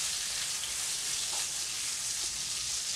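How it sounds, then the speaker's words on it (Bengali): Pointed gourd (potol) frying in mustard oil over a medium flame gives a steady, close, even sizzle that holds without a break. "দিয়ে দিচ্ছি পটলগুলো, পটলটা আমি ভালো করে ভেজে নেব"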